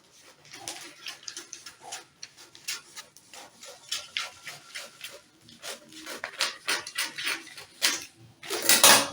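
Scissors cut fabric for dress drapes, close and quiet, a series of irregular crisp snips and rustles that grow denser and louder toward the end.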